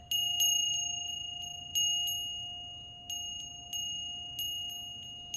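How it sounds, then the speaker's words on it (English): A small metal bell rings clear and bright several times in a loose rhythm. Each strike rings on and fades over a faint low hum. "I'll just ring the bell on that."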